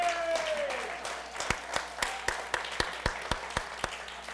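An audience applauding Kevin, sharp claps falling into a steady, evenly paced rhythm after a brief voice at the start, fairly close and clear.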